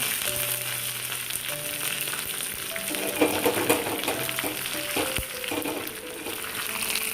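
Curry leaves sizzle and crackle in hot oil for a pumpkin and mango curry, a dense, steady frying hiss with scattered pops and a few stirring scrapes, close and continuous, with no voices.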